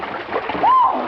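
A person jumps into very deep water outdoors, making one sharp splash and slosh near the end after some rustling movement, close and fairly loud.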